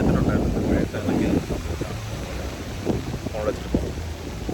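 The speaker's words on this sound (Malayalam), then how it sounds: "ചെറിയ നല്ല മഴയുണ്ട് കേട്ടോ" Light but steady rain falls with a soft, continuous hiss on Lakshadweep, with voices talking nearby in the foreground.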